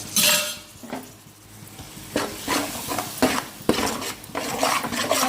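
A spoon stirs and mixes curry in a pot with chicken pieces added, giving repeated scraping, clinking strokes in an uneven rhythm, close and fairly loud, with a faint sizzle beneath.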